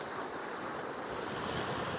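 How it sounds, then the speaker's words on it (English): Ocean waves wash up onto a sandy, eroded shoreline in a continuous broad rushing surge that holds steady throughout, mixed with wind buffeting the microphone and no voices. "The water washes up there, which I guess is why it's sort of eroded."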